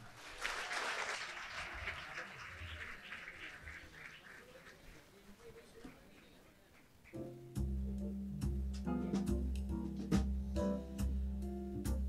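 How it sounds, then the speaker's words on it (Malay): Wedding guests clap for the bride's brother at a solemnization ceremony, a moderate burst of applause that tapers over several seconds before a voice and quiet music take over. "please help me to put our hands together."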